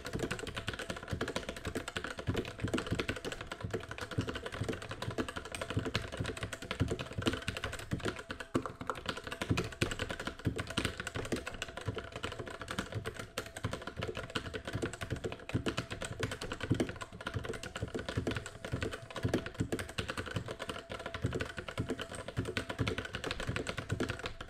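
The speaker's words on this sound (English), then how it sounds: "This is the RK61 stock with Outemu red switches." A stock RK61 mechanical keyboard with Outemu red switches is typed on continuously, a close, even stream of soft clacks and taps with no talking.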